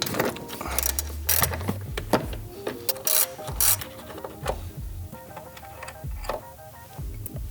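Hood latch bolts on a car are loosened with a ratchet, giving close, irregular metallic clicks and ticks in short bursts with small clanks between them.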